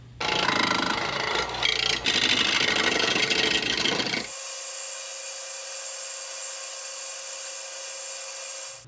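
A saw cuts through bolted metal pieces in a machine shop, loud harsh grinding and scraping for about four seconds, then stops abruptly, leaving a steady high electrical hum.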